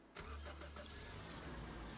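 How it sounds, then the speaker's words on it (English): A car engine cranks and catches in the Roblox game Lumber Tycoon 2, then settles into a steady low idle, quiet and alone. "I love the sound of car turnover."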